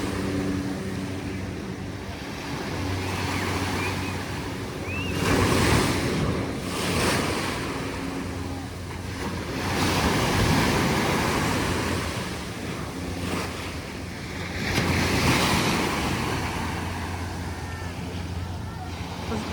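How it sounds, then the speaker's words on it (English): Choppy ocean waves break along the public surf break at Queens Beach, Waikiki, Oahu, a steady broadband wash that swells and recedes in repeated surges, with wind buffeting the microphone and faint voices in the background. "Waves are a bit choppy today."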